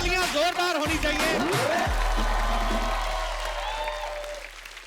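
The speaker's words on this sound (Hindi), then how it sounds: "तालियां जोरदार होनी चाहिए।" Studio audience applause on a TV comedy talk show greeting an actress-director guest, clapping under music and a rising swoosh effect, with cheering and swelling sound that gradually fades out.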